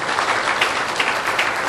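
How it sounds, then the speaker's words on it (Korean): Church congregation applauding during a sermon, dense steady clapping from many hands filling the room, loud and continuous without speech. "박수 한번 쳐주세요. 할렐루야. 박수 한번."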